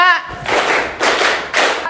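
A teacher claps a counted rhythm in a classroom, three firm bursts of hand claps spaced about half a second apart, close and loud, following a brief voice at the start.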